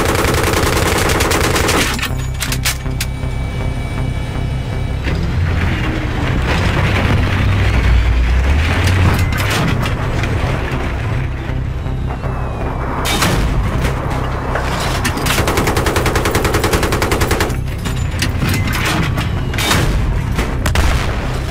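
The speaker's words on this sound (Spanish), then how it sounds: "Ametralladora" Rapid automatic machine-gun fire from a Battlefield 3 match keeps going through the whole stretch, loud and dense, with booming blasts and explosions from the battlefield mixed in.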